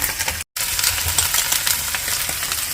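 Ginger drops into hot oil for a Bengali cabbage curry, giving a loud, close, steady sizzle and crackle with a brief silent cut near the start and no talking.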